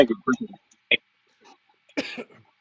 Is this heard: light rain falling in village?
no